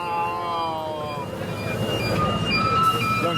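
A small amusement park train at Pleasurewood Hills rolls along its track with a steady rumble that grows a little louder. A person talks over the start.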